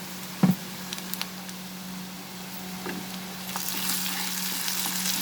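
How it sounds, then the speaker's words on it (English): Ginger garlic paste sautés over a low flame with fried onions for a shrimp and bitter gourd dish, a soft continuous sizzle opened by one sharp knock, growing fuller and louder toward the end, with no talking. "Lower the flame, saute the ginger garlic paste for a minute."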